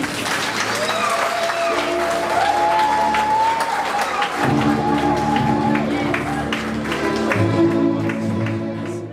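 Applause from an audience at a university academic ceremony honoring newly appointed professors, steady clapping filling the hall with a voice speaking over it and background music or tones underneath.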